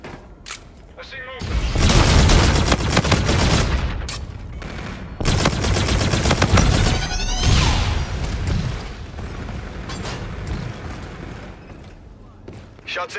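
Gunfire in the video game Call of Duty Infinite Warfare: loud, close bursts of automatic fire and booms rolling in two long waves, then tapering into quieter scattered shots.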